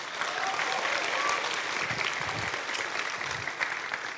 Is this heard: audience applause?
yes